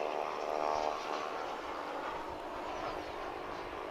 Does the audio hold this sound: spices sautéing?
no